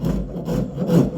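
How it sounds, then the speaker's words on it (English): A coarse wood rasp scraping steadily across a wooden axe handle as it is hollowed and shaped, giving a continuous close, rough rubbing sound with slight surges in each stroke. "this rasp, trying to hollow out in this direction"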